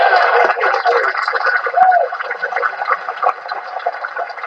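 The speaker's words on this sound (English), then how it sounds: "I don't know why my phone's blasting." A phone plays audio loudly through its small speaker, producing a harsh, tinny, band-limited stream of sound that continues throughout at high volume.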